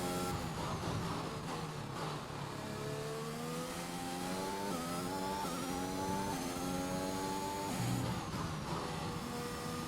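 F1 car engine in the F1 2021 video game on a flying lap around Bahrain, loud continuous high-revving whine that climbs through repeated gear changes, with no speech over it.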